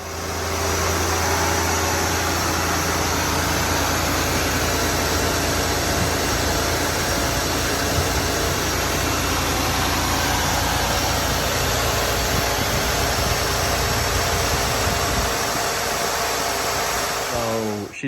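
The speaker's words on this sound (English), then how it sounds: "She's idling a little higher." A 1991 Ford LTD Crown Victoria engine idles slightly high, a loud steady whirring drone close by that runs unbroken for the whole stretch and cuts off at the end, with no voices.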